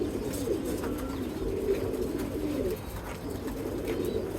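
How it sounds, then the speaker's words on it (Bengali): Soft, low pigeon cooing rolls on continuously, several birds murmuring close by with a steady background hum and no voices. "যে এখানে সিনিয়র কবুতর আছে কিছু খাবার খাইতেছে"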